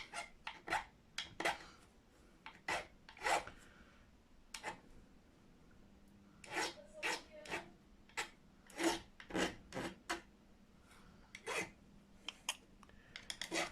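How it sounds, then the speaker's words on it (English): A blunt-edged file rasps across the sharp fret ends of a Fender Mexican Stratocaster during a setup, in short repeated strokes with brief pauses between bursts, close and clear. "using that file with a blunt edge, so it's not eating into the wood"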